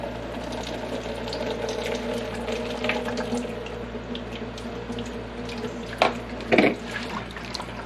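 Blended soy milk strains through a cloth, giving a steady liquid trickling and pouring that runs continuously at close range, with a few brief louder splashes near the end.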